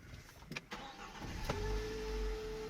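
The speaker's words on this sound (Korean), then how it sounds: "바로 한번 시동 한번 걸어보도록 할게요." A car engine cranks briefly with a couple of clicks, then catches and settles into a smooth, quiet idle.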